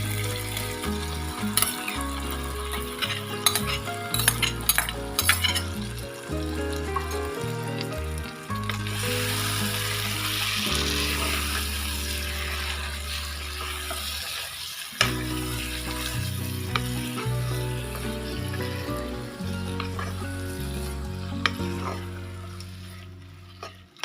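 Dal with fried chicken mince stirred in a hot pan, a steady sizzle broken by repeated scraping and clattering spoon strokes, close and fairly loud, with a brief lull midway and no talking.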